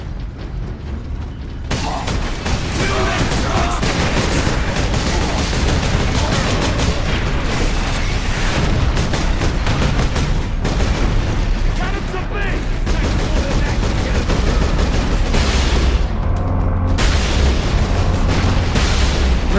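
Explosive rounds fire in Warhammer 40K Space Marine, a dense, loud and continuous barrage of blasts and gunfire that keeps up almost without a break, with a voice talking over the battle.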